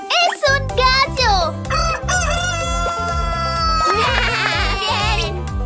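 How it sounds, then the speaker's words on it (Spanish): A cartoon-style rooster crows loudly over a bouncy children's song with a steady bass pulse, the calls rising and falling in several close, shrill bursts. "¡Es un gallo!"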